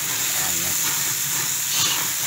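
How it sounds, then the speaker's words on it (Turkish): Mushrooms sautéing over an open wood fire at a family picnic in Kastamonu give a steady, close hiss and sizzle that runs unbroken throughout. "Ateşle pişiriyor şu anda mantarı."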